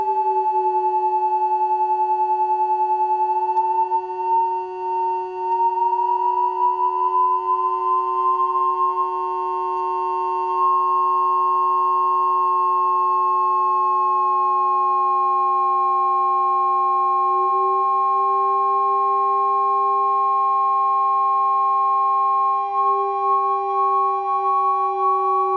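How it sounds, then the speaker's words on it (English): Several steady electronic test-set oscillators from 1950s sound gear sound together as sustained pure tones, some gliding slowly in pitch and weaving around each other in a continuous, loud drone. "This is what they sound like dancing with each other."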